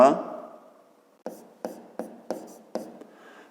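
Pen strokes on paper while working a fifth-grade geometry exercise on rays, five to six sharp scratching strokes in an irregular rhythm, close and fairly quiet, following a soft breath or rustle at the start.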